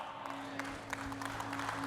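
Applause from a church audience during a sermon, a steady wash of many hands clapping at moderate distance throughout, with a low steady hum underneath.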